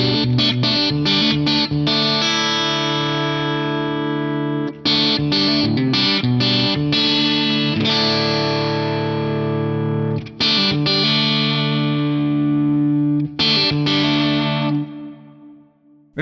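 An electric guitar played through an Axe Fx III with modulated reverb, distorted chords struck in rhythmic bursts and left to ring into a shimmering, wavering tail, loud and close with no voice.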